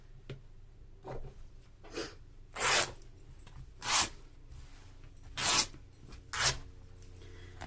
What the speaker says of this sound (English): there's the finished edge down there, which I don't want to keep, so I'm going to rip that off as well.